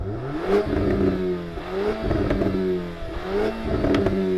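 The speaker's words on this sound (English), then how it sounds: "Ooh, that's a bit of rev hang." A performance hatchback's engine revs hard three times in a row, each rise and fall close and loud, with the revs hanging briefly before dropping.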